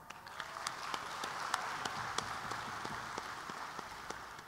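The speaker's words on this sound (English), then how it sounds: "Another round of applause" Audience applause at a national cosplay championship on a convention stage, a soft, steady patter of many hands heard from a distance, with a few sharper claps standing out.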